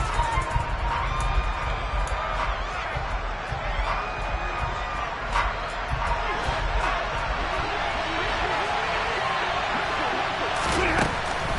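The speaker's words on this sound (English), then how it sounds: "How about some applause for the defense there?" A football stadium crowd cheers and applauds for the defense, a dense, continuous roar of voices that swells at moments, with an announcer talking over it.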